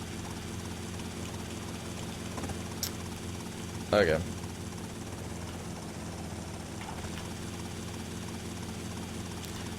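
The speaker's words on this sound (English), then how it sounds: "does anybody hear this helicopter?" A steady video game helicopter rotor drone hums throughout at moderate level in Grand Theft Auto: Vice City, with a brief spoken word and a short burst of noise near the middle.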